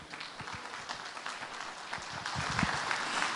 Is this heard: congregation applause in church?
yes